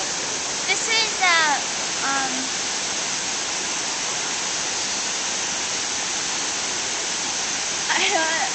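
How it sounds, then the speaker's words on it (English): Steady broadband rush of a waterfall, loud and continuous throughout, with brief voices talking over it at the start and end. "waterfall."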